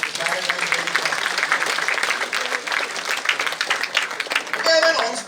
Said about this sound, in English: So I think you should give a big round of applause to Maritime Training Trust.